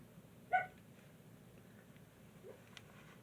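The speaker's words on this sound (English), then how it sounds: "Pardon the dog, he's a Chiweenie" A Chiweenie dog gives a single sharp yip or bark near the start, then a faint whimper later, against a quiet indoor room.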